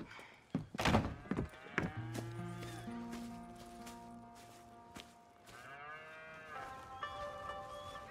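Cattle moo loudly in the video game Red Dead Redemption 2, a deep drawn-out call followed by another lower moo, with a thunk and light background sounds.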